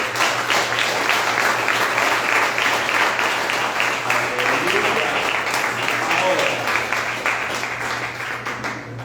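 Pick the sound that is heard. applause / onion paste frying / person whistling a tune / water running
applause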